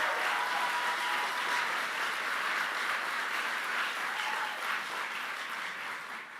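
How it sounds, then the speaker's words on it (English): A large crowd at a political rally in North Carolina applauds steadily, a dense wash of clapping and cheering that holds for several seconds before slowly tapering. "he stood up and clapped for that"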